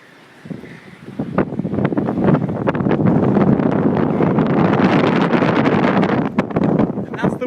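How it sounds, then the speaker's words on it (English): Strong wind buffets the microphone on a coastal clifftop near a lighthouse at Whitby, a loud, steady roar that rises after the first second and holds with gusty surges to the end. "And that's the wind."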